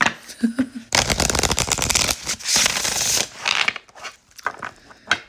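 Tarot cards being shuffled up close, a burst of riffling and scraping that fades into a few light taps and soft card rustles.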